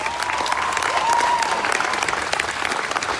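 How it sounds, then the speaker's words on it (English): Rally crowd applauding steadily and loudly throughout, a dense wash of clapping with a brief whistle or cheer rising partway through. "Let's give them a round of applause, please."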